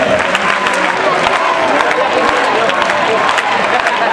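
Crowd applause at a bullfighting contest in Parla, a continuous dense clapping and crowd noise from a large arena audience, with an announcer's voice faintly over it.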